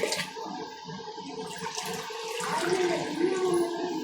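Water poured from a 200 ml glass into a pot of mutton biryani made with seeraga samba rice, a steady close splashing trickle that runs throughout without speech.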